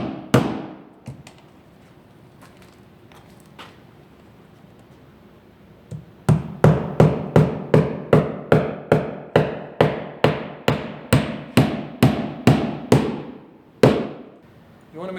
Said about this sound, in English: You want to make sure that when you're nailing that your nail goes straight in.